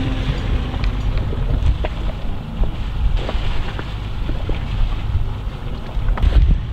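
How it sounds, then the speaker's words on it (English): A steady low engine rumble drones on with wind buffeting the microphone and water sloshing, continuous and fairly loud throughout. "The engine's on."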